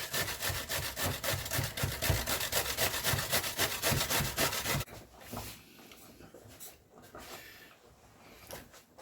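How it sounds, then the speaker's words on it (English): Cabbage is rubbed quickly against a grater in a fast, even rasping rhythm for about five seconds, followed by quieter, irregular scraping and handling. "I'm going to grate about a cupful of cabbage."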